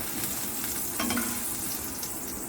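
Peanut butter French toast sizzles in hot oil in a pan, a steady close crackle with a brief louder burst partway through and no talking.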